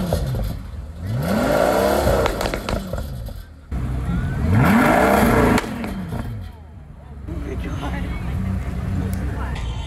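A supercar revs hard at a Dreamride exotic car event, with rising engine sweeps and sharp exhaust bursts. Crowd chatter and nearby talk run throughout.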